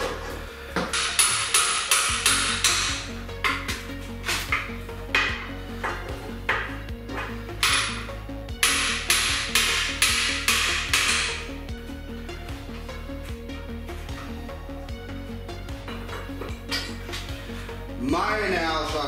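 Rapid metallic tapping from a small hammer in repeated quick bursts, close and sharp, over a low mechanical hum.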